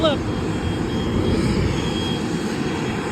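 A constant loud, broad engine roar from airplanes near an airport by a busy intersection in Hawthorne, steady throughout, with a voice speaking over it.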